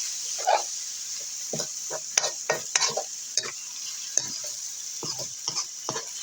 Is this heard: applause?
no